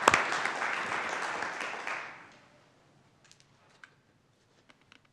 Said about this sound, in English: Now we can applaud.